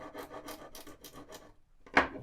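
A wood rasp files a guitar neck joint in about six quick, rhythmic scraping strokes up close, followed by a pause and a single sharper rasp stroke.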